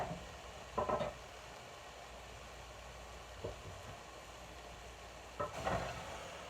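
Chunks of chopped food hit a hot pan and sizzle: a faint, steady frying hiss broken by a few brief clatters of stirring.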